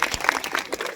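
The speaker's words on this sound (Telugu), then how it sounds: "కొంచెం గట్టిగా చప్పట్లు కొడితే వాళ్ళు ఇంకా ముందుకు వెళ్తారు." An audience claps steadily for a children's first stage performance, a dense, close burst of many hands with no pause.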